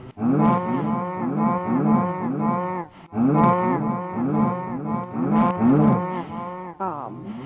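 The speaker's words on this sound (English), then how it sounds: "Here's my cow farm." Minecraft cows on a breeding farm moo over and over in dense, overlapping calls that come in close, loud bursts with barely a pause.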